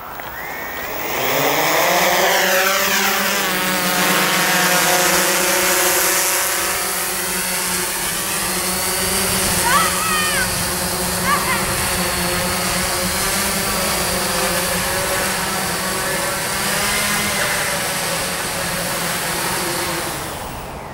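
A Timberdrone 2 hexcopter on its first outdoor flight whines loudly as its rotors spin up, then holds a steady multi-tone buzz that wavers slightly as it hovers and maneuvers for about twenty seconds, with no voices.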